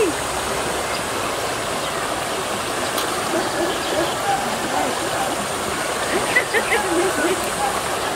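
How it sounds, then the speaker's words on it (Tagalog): Wide river flowing near a hanging bridge in Irosin, Sorsogon: a steady, broad rush of water that holds constant throughout, with a few faint bird or voice sounds on top near the end. "Ayan ang ilog lawak."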